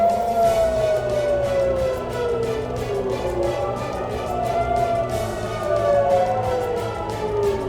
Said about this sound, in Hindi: इजराइल के कई इलाकों में सायरन की आवाजें सुनी गई